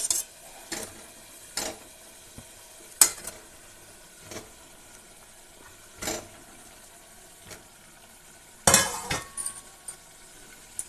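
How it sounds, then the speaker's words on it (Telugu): Masala-stuffed brinjals going into a pan and being stirred over a faint sizzle, with scattered clinks and scrapes of a utensil on metal, including a louder burst near the end, close with no talking. "ఇప్పుడు ఇందులోనే మనము మసాలా పెట్టిన ఈ వంకాయలను వేసుకోవాలి"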